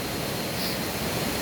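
A river flows beside a riverside footpath, giving a steady, close broadband rush of water with no pauses and no voices.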